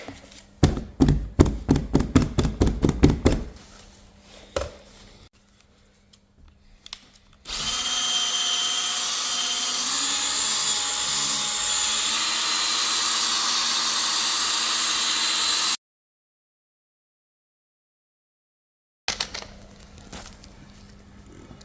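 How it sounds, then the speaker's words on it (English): A drill fitted with a 3-inch polishing pad buffing car bodywork, first a series of sharp rapid knocks, then a long steady close whirring spin lasting about eight seconds, followed by silence and brief tool noise. "So we've attached the 3-inch pad to a drill, if that's all you've got."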